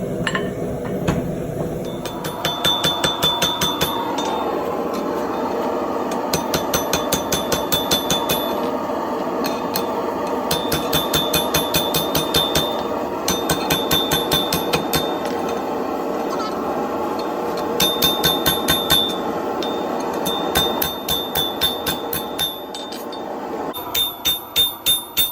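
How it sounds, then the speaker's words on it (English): Blacksmith hammering the corners of hot metal in for a forged turtle part, with fast steady ringing hammer strikes in bursts at close range and short pauses between heats. "the next heat, I'm going to hammer these corners in and start making it into a circle."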